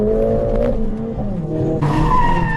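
A Mercedes-AMG A 45 S engine revs hard between 5,000 and 7,000 rpm with shifting pitch, followed by a loud burst of tires skidding and squealing close by.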